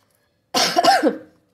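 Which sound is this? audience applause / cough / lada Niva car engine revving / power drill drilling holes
cough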